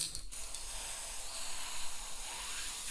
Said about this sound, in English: they just sprayed some clear spray paint onto a bowl of water